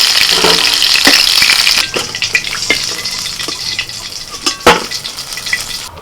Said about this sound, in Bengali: মাছগুলো একটু লাল লাল করে ভেজে তুলে নিচ্ছি।